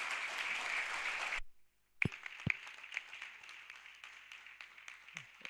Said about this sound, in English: can we give a round of applause to the Right Honorable Speaker, Alan Ochero Achila